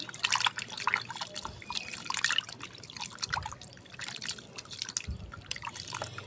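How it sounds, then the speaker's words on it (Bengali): A soaking mixture is stirred in water by hand, giving close, continuous splashing and trickling with some faint dripping. There are no voices. "তো ভিজিয়ে এরকম করে একটু ভালো করে নেড়ে ছেড়ে দেবে"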